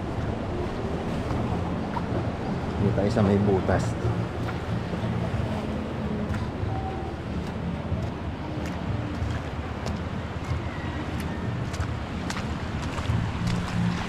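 Strong ocean waves roll and wash at a beach in Real, Quezon, a continuous roaring surf mixed with gusty wind buffeting the microphone, while a person speaks briefly nearby.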